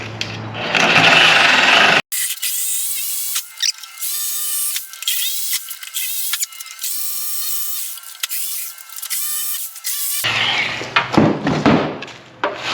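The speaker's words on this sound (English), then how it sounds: "Jigsaw" A jigsaw cuts out a traced hole in a board for an electrical box, buzzing steadily with a rapid reciprocating rattle through a long middle stretch, framed by louder noisy bursts at the start and end.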